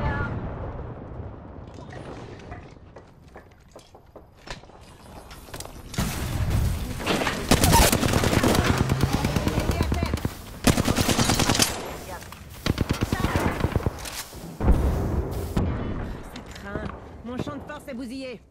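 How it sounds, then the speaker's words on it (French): Rapid machine gun bursts in the battle-royale game Apex Legends, loud, close and repeated in long volleys with short pauses between, set against game effects. "J'envoie des plombs."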